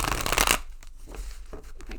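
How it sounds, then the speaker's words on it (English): Tarot cards being shuffled by hand, a burst of crisp riffling and papery flutter at the start, then softer scattered card rustles and handling noises close by. "Let me shuffle it real good."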